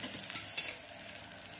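Methi chapati fries in oil on a hot pan, a soft, steady sizzle with faint crackles and light scraping, close but quiet, with no voices.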